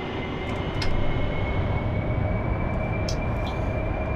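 A Harrier jet engine in a flight simulator game throttles up for a short takeoff, giving a steady, loud, broadband roar that swells slightly early and then holds constant, with no voices.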